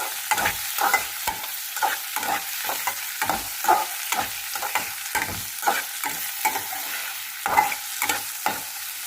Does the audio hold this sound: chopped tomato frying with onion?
yes